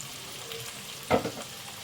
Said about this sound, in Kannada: ಚೆನ್ನಾಗಿ ಮಿಕ್ಸ್ ಮಾಡ್ಕೊಳ್ಳೋಣ ಚೆನ್ನಾಗಿ ಸ್ವಲ್ಪ ಕಲರ್ ಚೇಂಜ್ ಆಗಲಿ